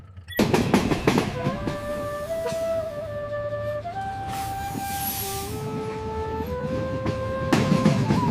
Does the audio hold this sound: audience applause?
no